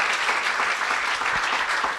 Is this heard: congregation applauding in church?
yes